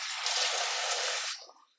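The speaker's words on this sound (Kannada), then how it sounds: "2 ಕಪ್ ಸೇಮಿಯಾಗೆ 3 ಕಪ್ ಬಿಸಿ ನೀರು ಹಾಕೊಳ್ತಾ ಇದ್ದೀನಿ" Hot water poured into a pan of vermicelli upma (shavige uppittu), a steady rushing pour lasting over a second, then tapering off into a few small splashes and a faint clink, with no talking.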